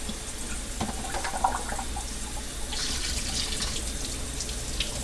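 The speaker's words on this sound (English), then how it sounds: "Okay, we're gonna drain this out." Tap water runs steadily into a kitchen sink while pasta water is drained, a continuous hiss and splash that swells slightly partway through, with brief clinks near the start.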